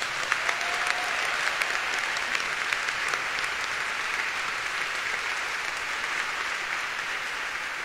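A church congregation applauding during a Catholic Mass, a dense, steady wash of many hands clapping that holds evenly throughout without fading.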